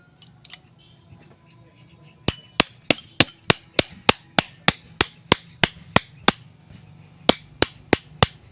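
Sharp metallic hammer strikes ring out in a fast, steady series as a shaft is driven into an electric fan's motor rotor, about a dozen blows in a row, close and loud, after a brief quiet start.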